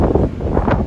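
Wind blows hard across a microphone on the coast of Mallorca, a steady, loud rumbling buffet with gusts that swell and ease throughout, no voices.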